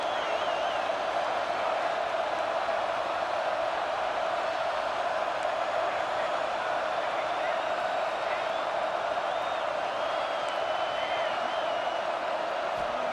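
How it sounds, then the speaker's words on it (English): Roaring crowd noise fills a football video game stadium on a third-down play, a dense steady wall of cheering that holds at a constant level throughout, with no voices standing out. "Third down and the crowd really getting into it"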